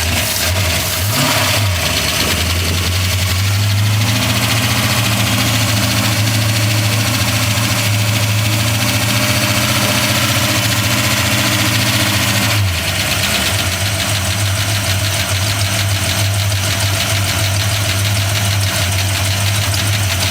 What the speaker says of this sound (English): Hey, you work the throttle now.